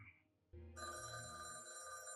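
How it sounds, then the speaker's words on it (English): A telephone rings in a tense TV drama scene, its bright electronic tone starting about half a second in and continuing steadily over a low background hum, with no talk during the ring. "Now, unless you intend to kill me, I'd like to answer my phone."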